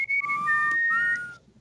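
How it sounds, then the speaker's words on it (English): A person whistles a short, clear two-part tune, sliding between pitches over about a second and a half, close and loud with no talk over it. "I don't know what that whistle is, but that's some Hogwarts shit."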